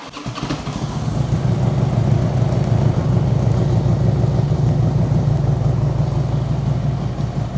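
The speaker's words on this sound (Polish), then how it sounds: "Zapalamy motocykl, zobaczymy," A Harley-Davidson motorcycle in a workshop fitted with lambda sensors starts up and settles into a steady, loud, low rumbling idle.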